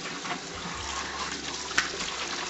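Tap water runs steadily into a kitchen sink while a dish rack is washed, a continuous hissing stream with a faint low hum and one brief clink near the end, no talking.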